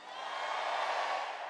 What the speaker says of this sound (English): Indeed, the crowd cheered Cruz